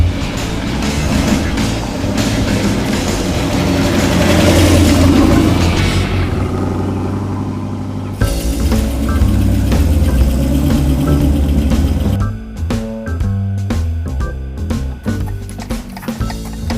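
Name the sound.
car driving with a loose rear wheel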